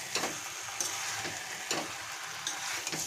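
Pieces of mutton fat fry in a pan with a steady, soft hiss of sizzling and a few light scrapes and taps of a spatula, fairly quiet and without speech.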